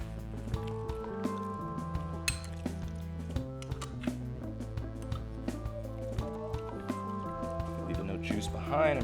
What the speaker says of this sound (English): I'll juice up about 5 of these bad boys. Cut them in half. Let's juice them up.